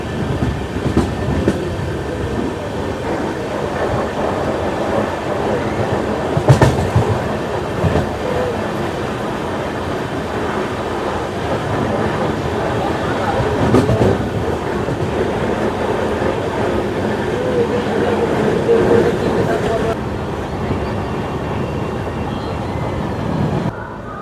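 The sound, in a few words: 12704 Falaknuma Express train running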